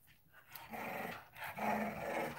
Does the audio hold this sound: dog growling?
yes